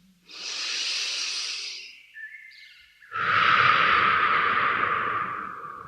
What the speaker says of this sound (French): Vous pouvez prendre une grande respiration.